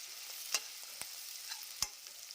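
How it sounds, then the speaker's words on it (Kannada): Onions fry gently in a pan for an egg gravy, a soft steady sizzle with a few light scrapes and taps of a stirring utensil against the pan. "ನೋಡಿ, ಈರುಳ್ಳಿ ಬೇಯ್ತಾ ಇದ್ದಾವೆ"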